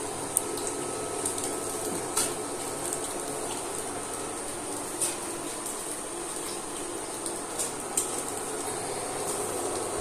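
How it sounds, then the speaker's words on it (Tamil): Steady bubbling and hissing of salted water at a rolling boil in a pot, continuous and close, with a few faint clinks over the churning. "இப்போ தண்ணி கொதிக்குது"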